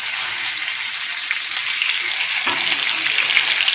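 Fish pieces coated in masala sizzle steadily in a pan over low heat, with a constant loud frying hiss and a brief shift partway through as the pieces are turned over.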